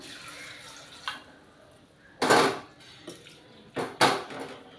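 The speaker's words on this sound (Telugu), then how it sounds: "కొంచెం వాటర్ వేసుకుందాం" Water poured into a pressure cooker holding cut broad bean pieces: a few short splashing bursts with light metallic clinks against a quiet kitchen background.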